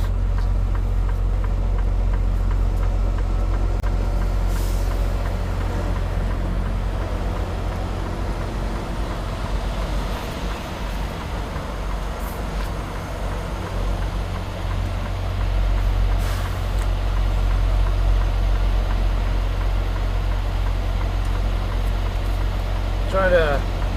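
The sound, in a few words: truck backing into a parking spot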